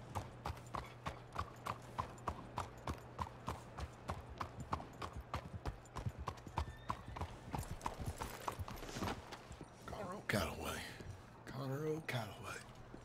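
Steady rhythmic clip-clop of horse hooves at a trot in Red Dead Redemption 2, with a brief whinny and talking near the end over the hoofbeats.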